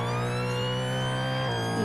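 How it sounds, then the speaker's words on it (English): Emergency vehicle siren tested in an NHS roleplay video game, a steady loud electronic wail with layered tones holding for about two seconds without talk. "We'll just test our sirens if they're good"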